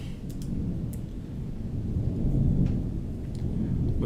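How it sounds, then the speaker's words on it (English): Low, steady thunder rumbles through a storm with faint rain, a continuous dull roll that swells slightly toward the end, with a few scattered clicks on top. "with ominous thunder rolling in the background."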